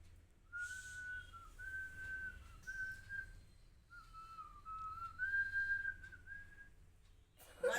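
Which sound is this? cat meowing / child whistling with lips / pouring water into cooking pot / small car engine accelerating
child whistling with lips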